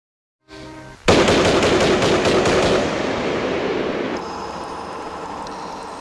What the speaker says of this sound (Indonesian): Kemudian Akiyoko langsung melepaskan tembakan dan pas mengenai Onishi dan Najia.